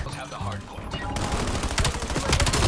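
Rapid automatic rifle fire in a futuristic Call of Duty: Black Ops 7 multiplayer match, loud, dense bursts rattling continuously alongside other game effects for a couple of seconds.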